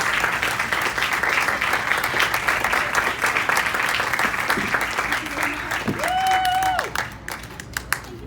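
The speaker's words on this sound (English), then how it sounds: "And a round of applause for Southeast Campus." Audience applause for Southeast Campus at a FACET gathering, steady broadband clapping sustained for about seven seconds with some cheering and whoops near the end, then tapering off.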